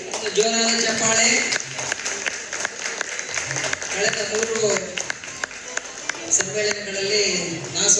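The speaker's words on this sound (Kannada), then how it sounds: "ಜೋರಾದ ಚಪ್ಪಾಳೆ." An audience at a quiz event applauds loudly with sustained, dense clapping, while a voice speaks over the ovation.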